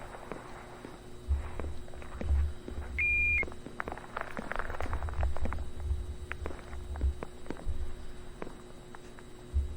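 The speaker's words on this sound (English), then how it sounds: "This game's beep sounds like my washing machine." A short electronic alarm beep in a Backrooms night shift video game, heard once amid soft in-game footsteps and faint background hum.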